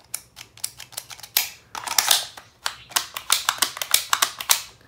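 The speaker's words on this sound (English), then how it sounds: "There, that noise, that is when it cycles this little clip." A manual single-action Colt 1911 gel ball blaster cycles its small internal clip in a dense run of sharp, close mechanical clicks and ratchety snaps, loud and uneven in rhythm.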